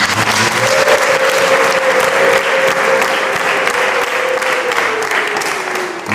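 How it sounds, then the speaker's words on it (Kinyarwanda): A church congregation at a morning worship service breaks into steady, loud, dense applause that fills the room and carries on for several seconds, with a faint sustained voice above it. "reka dukomere Imana yacu amashyi."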